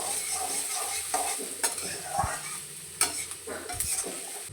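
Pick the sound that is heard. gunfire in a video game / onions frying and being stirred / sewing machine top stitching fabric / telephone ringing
onions frying and being stirred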